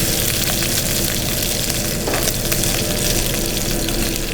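Food sears in a very hot wok with clarified butter, a loud, dense, continuous sizzle and crackle that roars steadily throughout with no voices.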